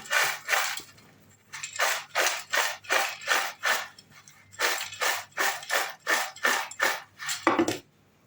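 Food being tossed and mixed with salt and powdered sugar, a close, regular series of about fourteen dry, rattling swishes in an even rhythm, with no talking.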